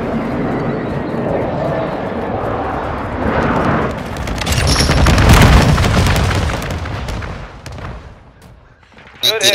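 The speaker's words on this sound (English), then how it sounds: "Inbound for bombing run." Bombing run explosions in Call of Duty: Modern Warfare II, a swelling series of heavy booms and blasts building to a loud rumbling peak mid-clip, with radio-style voice chatter over the battlefield din.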